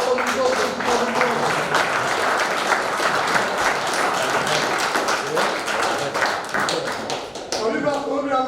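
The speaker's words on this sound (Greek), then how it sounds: "έπρεπε να το χειροκροτήσουμε όπως το χειροκροτήσατε" Audience applause at a hill-climb motorsport event, a dense and steady clapping wash that runs throughout, with voices talking over it toward the end.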